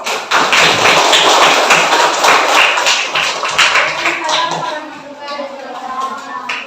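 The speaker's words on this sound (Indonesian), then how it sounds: "Nah, tepuk tangan dulu" A school class claps together, a loud dense burst of many hands close by that thins and fades toward the end.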